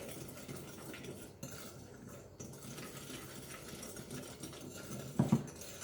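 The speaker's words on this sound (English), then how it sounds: "And give that a whisk" A whisk beats chocolate cake batter in a bowl, giving quiet, continuous rapid scraping and light clinking close by, with a couple of louder taps near the end.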